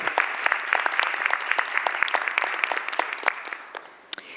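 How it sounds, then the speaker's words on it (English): Applause at a Camden City advisory board meeting as schools are recognised, a steady patter of many hands that tapers off near the end with a final sharp clap. "should get a big round of applause"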